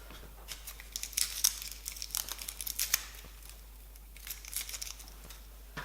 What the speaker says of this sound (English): just give your garlic a bit of a crush, just to loosen up the skin. You can peel it like so.